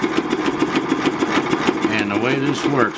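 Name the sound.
Gallatin hit-and-miss engine running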